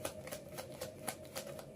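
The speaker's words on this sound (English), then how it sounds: "this is definitely one of the longest shuffles I've done so far." Tarot cards being shuffled at length, giving soft repeated riffling bursts at an irregular rhythm, fairly quiet and close, with no talking.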